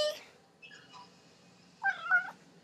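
A house cat meows a few times indoors, short quiet mews spaced apart, then a louder two-part meow near the end, close by and alone.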